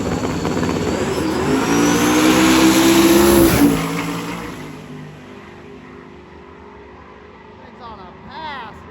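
A drag race car makes a full-throttle pass at a drag week event, a loud roaring engine note that rises and then fades into the distance, with talk heard over it.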